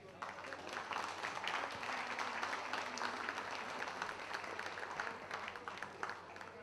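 An audience at a Pontic Greek music album presentation applauds steadily, a dense wash of many hands clapping throughout with little change in level.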